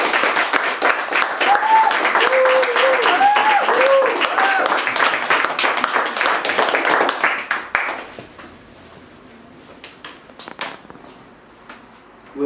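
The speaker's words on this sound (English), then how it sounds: "perhaps a small round of applause for David" An audience applauds a poet named David at a poetry evening, a dense burst of clapping lasting about eight seconds, with brief voices mixed in before it thins out and fades to a few scattered claps.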